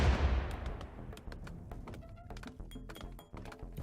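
Mortar launches and distant impacts in Rimworld, a heavy thump up front followed by a series of sharp, scattered bangs with ringing tails.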